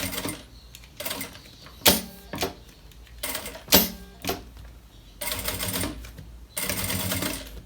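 Sewing machine stitching around a synthetic leather bag piece, rattling in short stop-start bursts with sharp clicks between runs, close and loud, without talk.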